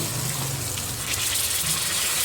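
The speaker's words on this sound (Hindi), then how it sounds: "थोड़ा सा पानी शामिल करूँगी" Water poured into spiced masala frying in a pan for chicken kofta curry, a short gushing splash over steady sizzle, close and alone without talk.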